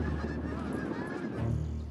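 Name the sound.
Canada geese honking at an airport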